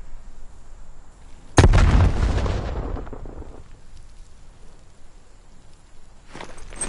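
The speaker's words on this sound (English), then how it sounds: "Throwing frag grenade." A frag grenade detonates in a Call of Duty: Black Ops Cold War multiplayer deathmatch: one loud, close blast with a sharp onset, followed by a rumbling decay that fades over about two seconds, and then faint background game ambience.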